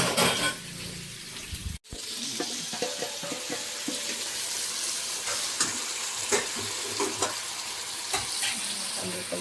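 Hot oil sizzles and crackles steadily with red chili tempering after a brief cut at the start, with scattered pops and light stirring clinks throughout.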